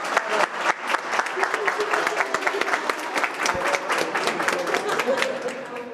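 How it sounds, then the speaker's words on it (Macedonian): Lively applause for the second team at a cooking contest, many hands clapping in quick uneven bursts with crowd noise and voices mixed in, fairly close and steady throughout. "Уште еден аплауз за нив."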